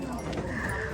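Goats bleat at a busy livestock stockyard market, their cries close and mixed into a dense crowd murmur with other animal noise around.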